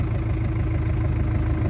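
A tractor engine runs steadily at low revs as the clutch eases out and the machine begins to move, with a loud, continuous rumble and no talking.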